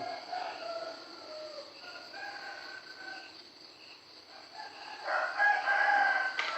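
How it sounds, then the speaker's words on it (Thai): A rooster crows several times in the early morning, moderately distant, over a quiet rural background. "ตื่นมาพร้อมเสียงไก่ขัน"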